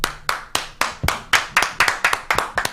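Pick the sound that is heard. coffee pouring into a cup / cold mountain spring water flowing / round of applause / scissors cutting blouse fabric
round of applause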